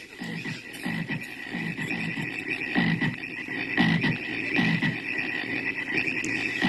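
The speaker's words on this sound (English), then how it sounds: "Frogs." Frogs croak in a steady nighttime chorus, loud and close, with rhythmic repeated croaks pulsing about once a second over a constant buzzing trill.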